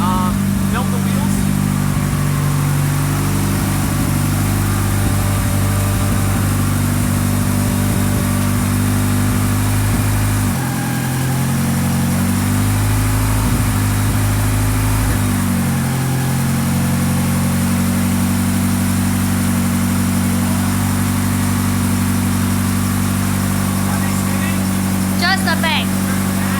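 The 4g63 engine swapped into a Mini Cooper runs loud and steady close by, with a rough droning idle and a brief shift in tone partway through as the wheels are turned. A voice is heard now and then under the engine.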